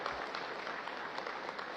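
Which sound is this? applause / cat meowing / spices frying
applause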